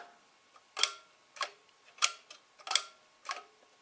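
Sharp mechanical clicks from the shutter of an AGFA Synchro Box camera, six distinct snaps spaced unevenly about half a second apart, close and crisp against a quiet background.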